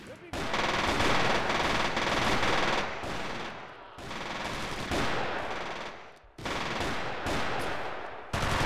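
Sustained bursts of heavy machine gun fire from the WWII tactical game Squad Assault: West Front, loud and continuous with brief pauses between long rattling volleys.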